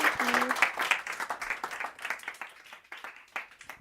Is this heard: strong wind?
no